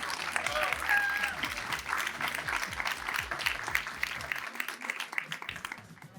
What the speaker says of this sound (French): On les applaudit très fort, s'il vous plaît.